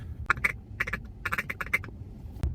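Rapid, rhythmic duck-call feeding chuckles in quick bursts, a series of short raspy clucks blown close by, ending with a single sharper note.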